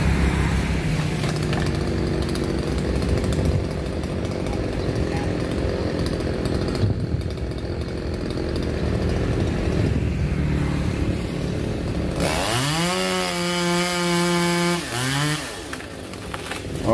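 A chainsaw roars steadily and close for a long stretch while cutting down a tree, then its pitch climbs and swoops as the engine revs up and down near the end.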